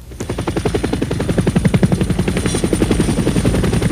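Helicopter rotor blades thump in a fast, steady rhythm, loud and close, growing slightly stronger as the aircraft flies.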